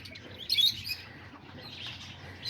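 Small chicks and young roosters in a coop give thin, high chirps and tweets, scattered and fairly faint over a low background hum.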